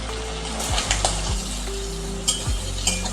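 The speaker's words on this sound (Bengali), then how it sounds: "নুন আর হলুদ দিয়ে চিংড়ি মাছ আমি হালকা করে ভেজে নিয়েছি" Shrimp frying lightly with salt and turmeric in a pan: a steady close sizzle with a few sharp spoon scrapes and clinks against the metal, no voices.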